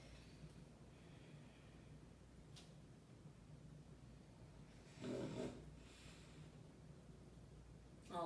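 A pet snores faintly in a quiet room during a yoga session, with soft breathing and one louder snorting snore midway, then a brief rustle at the end.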